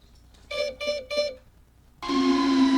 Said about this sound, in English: this is the sound of a critically low battery makes